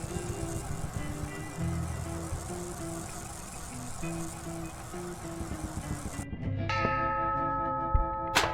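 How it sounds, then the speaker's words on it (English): In the video game Whirlight, a loud bell is struck once late in the passage and rings out with a long shimmering decay, following a stretch of steady background music. "The bell's sound seems very loud."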